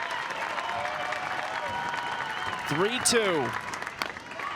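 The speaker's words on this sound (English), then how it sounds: "Crowd getting into it, trying to give Lauren Krings a little extra" Crowd at an NCAA softball regional final clapping and cheering steadily, swelling briefly, with a commentator talking over it.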